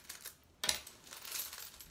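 Japanese coins are sorted by hand, with faint metallic rustling and then one bright, sudden clink of coins knocking together.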